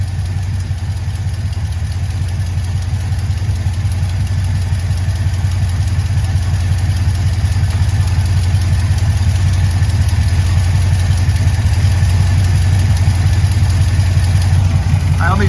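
A 1955 Ford 292 Y-block V8 fitted with a 500 cfm Summit electric-choke carburetor idles steadily and loudly at close range, its low rumble even and continuous.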